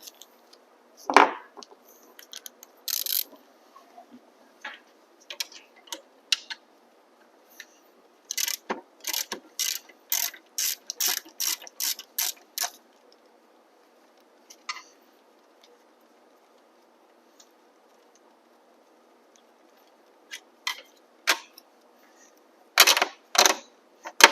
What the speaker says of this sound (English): Next you need to disconnect the lower eyelet bolt on the shock. You use a 13 mil.